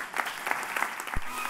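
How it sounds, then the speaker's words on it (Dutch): Audience applause at a Flemish industry federation's political debate as party leaders are introduced, a steady burst of clapping from a hall crowd, moderately loud and uninterrupted. "geef uw applaus, dames en heren, voor de CD&V-voorzitter Wouter Beke."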